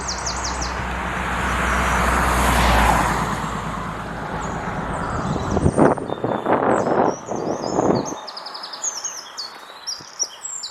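Traffic rumbles past on a nearby road beside an urban woodland in Wilhelmshaven, Germany, with one vehicle swelling loud then fading, while birds chirp and call throughout, growing clearer as the road noise drops.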